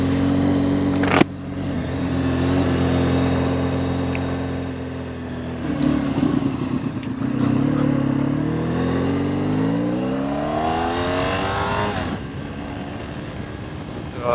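Honda VFR1200F motorcycle ridden at night, a steady engine drone with wind rush, rising and falling in pitch as it revs up through the gears, close and continuous with no talk.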